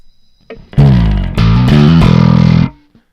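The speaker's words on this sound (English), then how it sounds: "And then there's also like a mean channel bit fuzzer going on here." A channel bit fuzzer plugin crunches a held synth chord into harsh, loud digital distortion. The chord runs about two seconds and then cuts off, with no talking.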